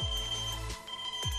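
An ESP32-based smart home alarm rings in repeated electronic bursts, two long pulsing tones separated by a short gap, loud and close with no talk over it.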